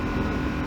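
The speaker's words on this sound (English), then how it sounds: "So in 6th gear, full throttle, yeah, it pulls pretty good." Yamaha Tenere 700 motorcycle, 2019 model, at full throttle in sixth gear: a steady, dense engine drone mixed with wind rush, continuous and fairly loud for under a second with no talking.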